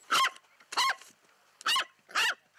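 Dogs at a village shelter bark in four loud, sharp, close barks, spaced in a broken rhythm with quiet gaps between them and no talking.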